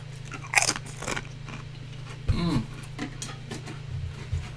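Original red-tin Pringles potato chips are bitten and chewed close to the mic, with sharp crisp crunches and softer chewing over a steady low hum.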